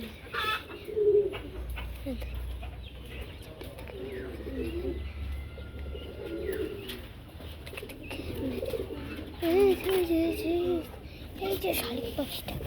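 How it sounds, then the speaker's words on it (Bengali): A common myna calls outdoors with repeated chattering, whistling phrases while someone talks over them, with the bird heard in short bursts throughout. "এই যে শালিক পাখিটা, এই সেই শালিক পাখি"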